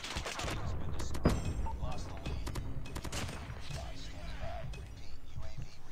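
Rapid hip-fire gunfire from a weapon in COD Mobile crackles in dense bursts with scattered shots, while a person talks over the shooting.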